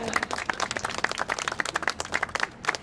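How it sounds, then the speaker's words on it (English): An audience at a Portuguese Immigrant Week event in San Leandro breaks into lively applause, a close, crisp patter of many hands with distinct individual claps, moderately loud and unbroken throughout. "Yes, you can applaud."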